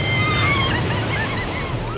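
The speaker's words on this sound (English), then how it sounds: "south of Cape Horn produces the biggest waves" Huge ocean waves south of Cape Horn surge in a loud, unbroken roar, with wind rushing across the sea throughout.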